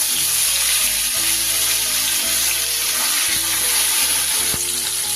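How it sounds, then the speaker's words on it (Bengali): Bhola fish pieces fry in smoking-hot oil on high flame, giving a loud, steady, dense sizzle that runs unbroken throughout, with no speech. "তখনই আমরা মাছগুলো দিয়ে ভেজে নেব"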